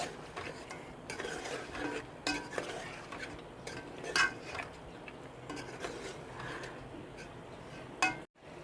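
Mutton browns in ghee in a pan, with soft sizzling under repeated spoon scrapes and metallic clinks against the pan, fairly quiet and close.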